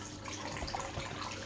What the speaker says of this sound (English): taps are running and that